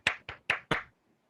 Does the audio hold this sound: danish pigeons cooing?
no